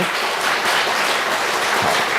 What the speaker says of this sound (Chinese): 所以我们也拍手来欢迎陈琳和思彤